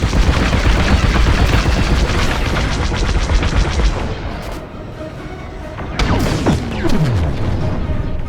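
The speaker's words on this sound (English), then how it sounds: "Under heavy fire!" Heavy, dense blaster fire from a Star Wars: Squadrons starfighter battle, loud and continuous for several seconds, then easing off before a few more sharp shots and whooshing passes.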